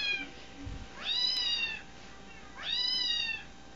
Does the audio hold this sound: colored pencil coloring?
no